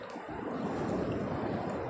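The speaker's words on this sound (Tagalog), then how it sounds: "Ayan na, inabot ng konting alon." A small sea wave washes in near the shore where fish are gathering, a close, steady rushing wash with some wind noise on the microphone.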